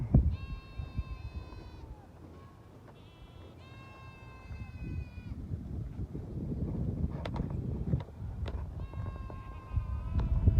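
Goats bleat in loud, wavering calls in bursts across a garden homestead, with gusty wind rumbling against the microphone between and beneath the cries.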